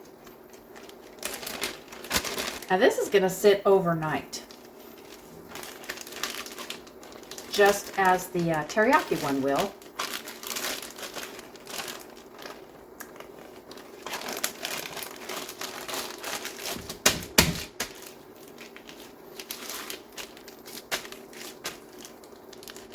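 Plastic zip top bag crinkling and rustling close by in a kitchen, in several bursts across the clip, with someone talking over the handling.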